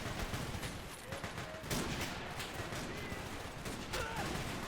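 Battle gunfire in the Totaler Krieg game as British and French forces defend the Maginot Line: dense, irregular rifle and machine-gun fusillades with sharp cracks and bursts, fairly loud throughout.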